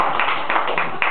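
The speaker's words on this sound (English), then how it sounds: "Another round of applause." Audience at a Frank Cottrell Boyce book reading claps briefly, a short burst of close, fairly loud clapping with distinct individual claps.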